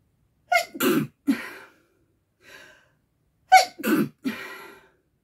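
A person sneezes twice in close succession, each a sharp inhaled gasp followed by an explosive burst, with a small breathy sound between them, near and loud.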